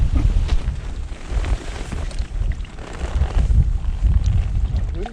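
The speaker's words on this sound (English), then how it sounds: "Wind died off a bit." Wind gusts across a reservoir during pike fishing, buffeting the microphone with a rough, broadband roar that swells and eases continuously.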